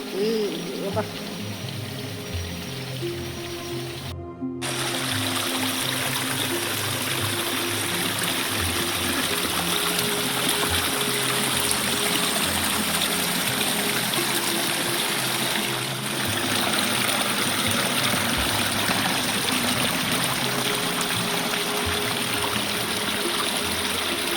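Water from a farm pond runs beneath a structure toward the plantation after rain, a steady, continuous stream-like rush heard close and fairly loud throughout, with a brief dropout near the start.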